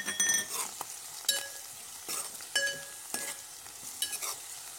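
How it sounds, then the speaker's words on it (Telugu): Spice tempering fries and sizzles in a pan with a steady hiss, broken by repeated stirring scrapes and light clinks of a utensil against the metal, close and fairly quiet, with no one speaking. "ఇప్పుడు పోపులన్నీ బాగా వేగిపోయాయి"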